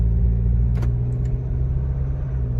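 A steady, low engine rumble from inside a 2021 Isuzu MU-X SUV as it revs to about 2000 rpm in first gear before shifting, with a couple of faint clicks partway through.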